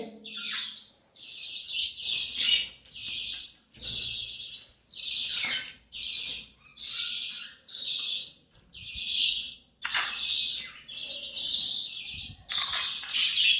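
Pet birds chirp and tweet in rapid, bright bursts throughout, a steady run of close, fairly loud calls separated by brief pauses, with no talking.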